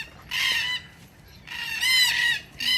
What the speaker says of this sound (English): these red-tailed black cockatoos